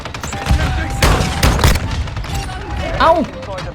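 Shotgun blasts and an explosion in the Lockwood 300 double-barrel online shooter game, loud bursts with a sharp blast near the start and a swooping effect later, mixed with background game noise.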